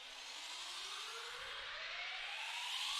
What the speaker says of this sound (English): I also added a riser and an impact,